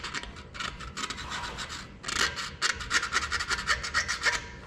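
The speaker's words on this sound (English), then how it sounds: "You want to be careful about cleaning these counter bores out. Don't want to get too aggressive." Rusty counter bores in an Oliver 1855 tractor engine block being scraped clean, a close, repeated rasping scrape in short bursts that quickens into dense, rapid strokes toward the end, with no talking.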